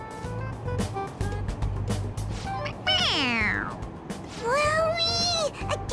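A toy cat in the video game Persona 5 Royal gives two clear, rising-and-falling meows when its head is pressed. Each meow is distinct, over a low rumbling background.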